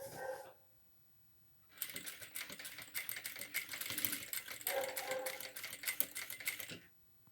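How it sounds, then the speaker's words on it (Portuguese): A sewing machine stitching a fabric heart-shaped pouch, running in a steady rapid mechanical whir for about five seconds after a short quiet pause, close and fairly soft. "Chega aqui na pontinha, eu costuro mais um pouquinho e viro a peça"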